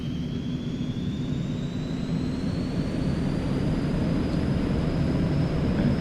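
Eclipse 550 twin jet engines held at takeoff power in the X-Plane 11 flight simulator, a steady loud roar with a rising high whine, continuous and alone.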